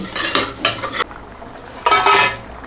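Spices being stirred and mixed into prawn rice in a pan, in three bursts of scraping, rustling strokes with brief pauses between them, close and fairly loud with no talking.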